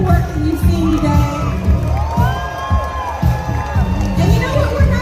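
Crowd at a cosplay competition at LA Comic Con 2024 cheering, whooping and shouting in a loud, sustained wash, with a voice calling over it.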